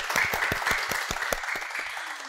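An audience claps to welcome a guest onto a podcast set, a short burst of distinct hand claps, fairly close, tapering off toward the end.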